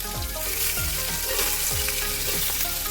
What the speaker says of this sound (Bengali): ভালো করে লঙ্কা দুটো ভেজে এর মধ্যে ওই আলু আর কাঁচা লঙ্কা দিয়ে দেবো।